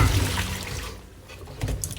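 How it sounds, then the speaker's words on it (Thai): Salt water is poured out of a bowl of peeled bananas, a splashing gush of liquid that tapers off and then briefly picks up again near the end. "เทน้ำเกลือทิ้งค่ะ"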